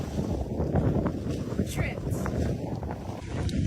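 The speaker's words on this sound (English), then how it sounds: "We are sailing down the Culebra Canal." A sailboat sailing down the Culebra Canal with only the head sail out, heard as steady wind and water rush buffeting the microphone, with a brief spoken word near the start.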